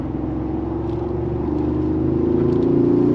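A 2025 Mercedes-Benz G580 G-Wagen under full throttle, a loud steady drone that rises gradually in pitch as it accelerates, heard from inside the cabin with no talk.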